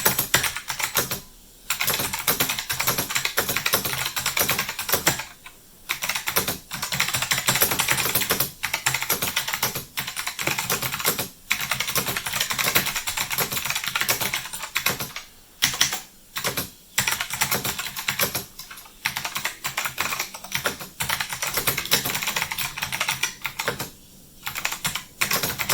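Close, sustained typing on a Monterey K101 mechanical keyboard with Blue Alps switches: rapid clacky keystrokes in long bursts, broken by a few short pauses, with no talking.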